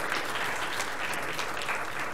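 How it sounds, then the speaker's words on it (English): An audience at the PyCon Latam 2019 conference claps for the live translators, a dense, steady wash of applause from many hands throughout, with no talk over it. "we should all like give a warm applause and clap to the live translation"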